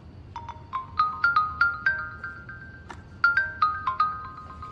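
A mobile phone ringtone plays a bright, melodic run of repeated electronic notes, clear and close, pausing briefly before the tune repeats.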